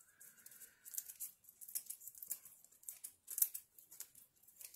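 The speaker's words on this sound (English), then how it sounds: "I use a pair of scissors." Scissors snip through microwaved lemon or orange peel up close, a run of quick crisp cuts and crinkly rustles, fairly quiet, with no talking.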